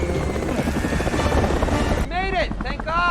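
A stolen helicopter flies off in a film escape scene, its rotor chopping loud and close in a steady rhythmic pulse, with a voice speaking over the final second.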